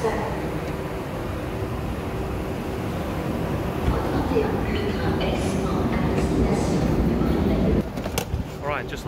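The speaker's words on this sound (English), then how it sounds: "We're late for the train." Train noise on a journey between Brussels and Paris, a continuous rumbling roar with faint squeals, while voices talk over it.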